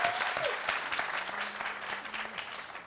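A studio audience at a French radio show breaks into steady, even applause that carries on throughout, with a faint voice and a brief tone in the background.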